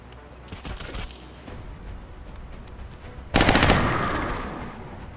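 A Gauss alloy strike rifle fires in the video game XCOM Long War: one loud, sudden blast over quiet game background, followed by a long fading tail.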